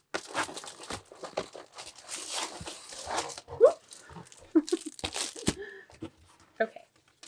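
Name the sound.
packing paper crinkling as it is taken from a box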